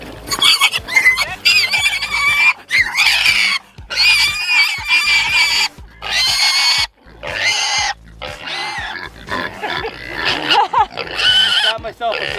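Pigs in a pen squeal and grunt loudly at close range in repeated bursts with short gaps between them.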